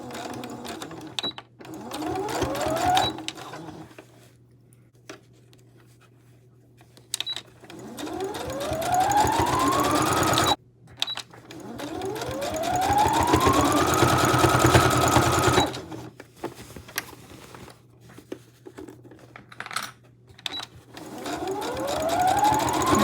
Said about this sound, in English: I am backstitching